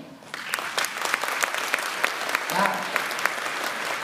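A crowd at a mariachi show during World Fest at Silver Dollar City in Branson, Missouri, bursts into applause: dense, steady clapping with a few whoops that holds for about four seconds after a brief quiet start.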